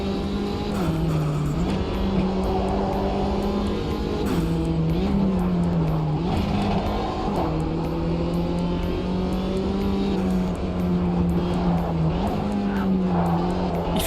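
Racing car engine in a video game, its tone rising and dipping through shifts as it brakes hard, with the rear end stepping out; loud, steady and close with no speech.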